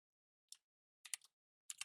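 Light, sparse keystrokes on a computer keyboard, a few isolated taps followed by quick short bursts of typing, close and quiet against silence.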